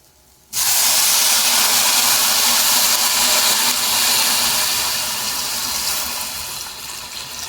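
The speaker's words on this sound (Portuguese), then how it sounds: "E agora eu vou jogar água. Aí eu coloco um copo desse cheio." A full glass of water poured into a cooking pot, a sudden loud rushing splash that starts abruptly and holds steady for several seconds before easing slightly.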